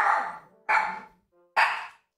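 A dog barks three times in evenly spaced, sharp bursts, close and loud, with brief quiet gaps between each bark.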